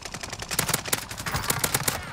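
Rapid bursts of automatic gunfire and scattered single shots from a Call of Duty Warzone match on the Rebirth or Caldera map, loud and close, crackling in a dense continuous stream for about two seconds.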